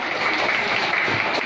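Steady applause from a concert audience for a male singer, a dense even patter of many hands clapping at once, with no break for its short length.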